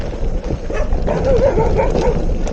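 A dog yips and whimpers excitedly amid rough outdoor noise, a few short barks mixed in.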